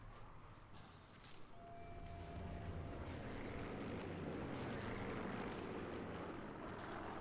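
Airplanes fly overhead in the video game Sniper Elite 4, making a steady, distant engine drone that swells after the first second and holds to the end. A few faint clicks sit beneath it, and no one speaks.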